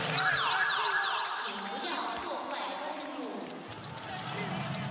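An alarm soundbite plays over the public address at a Taoyuan Pilots basketball game: a loud, warbling siren-like tone for about a second, then fading into steady arena crowd noise and voices.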